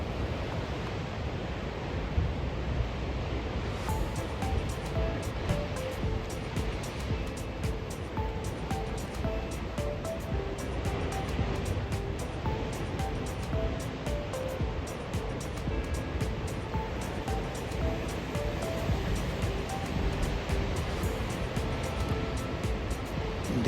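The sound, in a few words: ocean waves surging toward the shore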